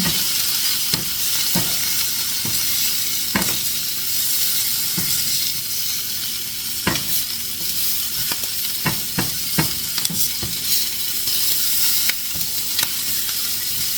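Onions for fajitas sizzle loudly and steadily in a frying pan while a utensil stirs them, sharp scraping clicks popping out at irregular intervals above the continuous hiss.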